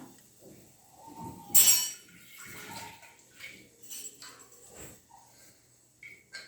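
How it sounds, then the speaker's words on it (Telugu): Water poured from a vessel into a pan of spinach dal (palakura pappu) in a home kitchen, a brief splashing pour amid light clinks of utensils, with no talk. "నేను ఇందులో కొంచెం వాటర్ పోసి అందులో పోస్తాను."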